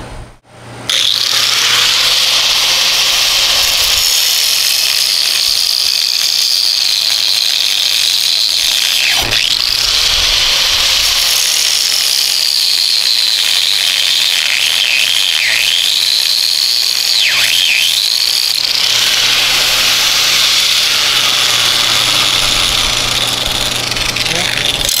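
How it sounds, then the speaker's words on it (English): Cutoff wheel grinding steady and loud for the full stretch, with a high whine that dips briefly a few times as the cut bites, over a constant low generator drone. "I'm gonna go get my cutoff wheel and the generator"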